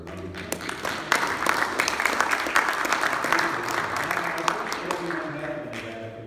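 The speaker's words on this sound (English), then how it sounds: "Ron, you deserve a round of applause for everything you've done" An audience at the MERGE! domain-industry conference breaks into sustained applause after a State of the Domain talk, a dense wash of clapping that swells and holds for several seconds, with a voice speaking over it.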